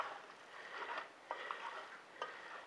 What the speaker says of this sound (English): give it a good mixing